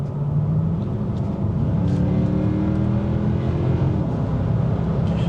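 Mercedes AMG 6.2-litre V8 car in sport mode, heard from inside as a loud, steady engine roar with rising tones as it accelerates, no voices.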